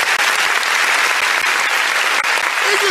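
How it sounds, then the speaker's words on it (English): Audience applause at a public gathering in Nigeria, loud, dense and sustained clapping from a large crowd, with a brief voice surfacing near the end. "A round of applause, ladies and gentlemen"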